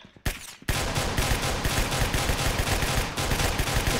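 Sustained automatic gunfire from a weapon in the Roblox game Arsenal, a loud, steady rapid-fire stream after a short opening shot, with no voices over it.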